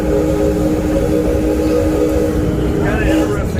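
The Six Flags Over Texas railroad train, running since 1961, rolls along its track with a constant loud rumble and mechanical drone, a tour guide speaking over the ride.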